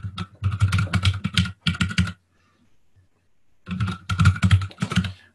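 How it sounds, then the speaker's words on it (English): Fast typing on a mechanical keyboard, heard close and clear in two dense bursts of rapid clacking keystrokes separated by a short pause, with no speech over it. "Cecile, I think you cannot deny that you like your mechanical keyboard"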